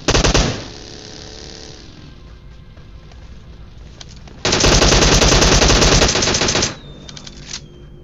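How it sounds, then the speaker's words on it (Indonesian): Loud automatic gunfire in PUBG Mobile on the Erangel map, with a flare gun in play, sounds as a sharp opening burst, a droning lull, then a second sustained rattling volley lasting about two seconds. "Lu nembak flare gun?"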